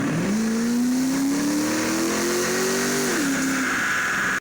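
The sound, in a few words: modified 2005 C6 Corvette engine revving on a dyno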